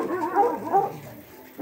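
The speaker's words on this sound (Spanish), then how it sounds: "¡Qué perros más bravos estos!" Several dogs bark and yip in quick bursts, close and fairly loud, with a whimpering edge between barks at a rural home in Tocoa, Colón.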